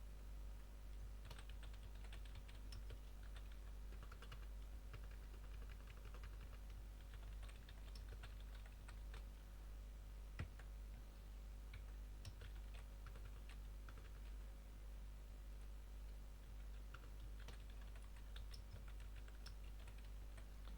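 Steady typing on a computer keyboard while entering a job name into a cost-estimate (RAB) application, with soft clustered key clicks running throughout over a constant low hum, no speech.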